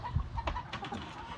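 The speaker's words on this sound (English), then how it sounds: "They are just adorable chickens." Red sex-link chickens cluck softly in short, scattered bursts, fairly close, with a low rustling background.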